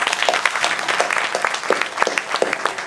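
Audience applause at a temple gathering in Melbourne, steady dense clapping from a crowd that holds for the whole stretch, close and fairly loud with no voices over it.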